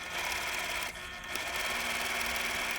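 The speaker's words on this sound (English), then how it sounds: "I'm going to go ahead and stitch right on my sew line like this." A sewing machine stitches half square triangle quilt pieces, a quiet, rapid mechanical whir with a brief pause partway through before it resumes.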